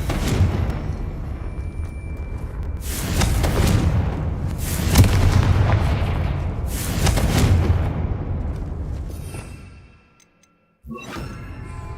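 The Confringo explosion spell in a video game sets off a string of booming blasts with whooshing rushes over a dense rumble, loud and close. It cuts to a brief silence, then the noise resumes.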